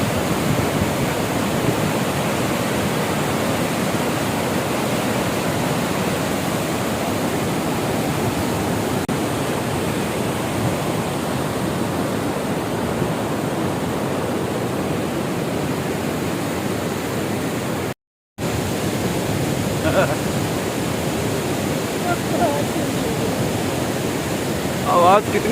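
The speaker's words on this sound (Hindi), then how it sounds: "पानी का शोर इतना ज़्यादा है, भयंकर तेज।" Loud roaring water at the entrance to a fish sanctuary in Meghalaya's Jaintia Hills, a constant heavy rushing wash that fills the whole clip, briefly cut out near the end, with faint voices underneath.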